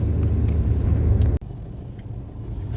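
A car creeping slowly through heavy, stop-and-go Diwali-season traffic on the way to Agra, heard from inside as a steady low engine and road rumble with a brief dropout midway.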